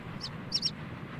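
A small bird chirps in the Peppa Pig video game, three quick high tweets, one and then a close pair, over a low background hum.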